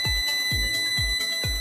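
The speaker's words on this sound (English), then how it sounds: "Now multimeter's buzzer beeps." A multimeter's steady continuity buzzer sounds during a test between two phases of a low-voltage cable, accompanied by four regular low thumps about half a second apart.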